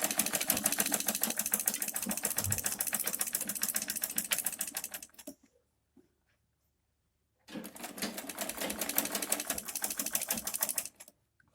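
A sewing machine stitches a zip onto a blouse in a rapid, close mechanical clatter, running about five seconds, pausing in silence, then starting again for another burst.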